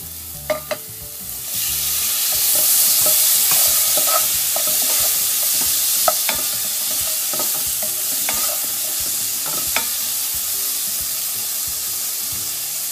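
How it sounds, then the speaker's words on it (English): Tomatoes go into curry paste in a pot over medium heat for a pink salmon curry, frying with a steady sizzle and hiss while a spoon stirs in repeated scraping knocks, close and alone. "Now we're going to go ahead and add our tomatoes to our paste."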